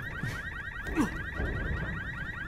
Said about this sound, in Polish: Może trzeba wrócić i jakby wyłączyć alarm najpierw.